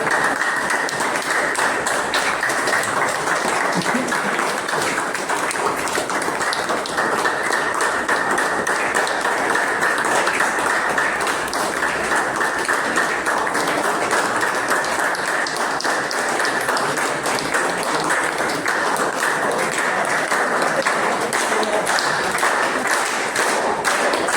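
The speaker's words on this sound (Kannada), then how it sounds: "ಚಪ್ಪಾಳೆ ಚಪ್ಪಾಳೆ ಚಪ್ಪಾಳೆ ಚಪ್ಪಾಳೆ" An audience at a farmers' organic-farming training session claps continuously, producing a dense, steady roar of applause with no break.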